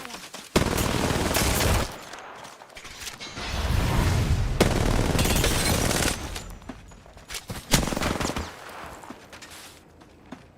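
Video game gunfire in a solo Apex Legends-style Lifeline match, with loud bursts of rapid automatic shots and sustained volleys broken by short pauses, close and intense, while a player talks over parts of it.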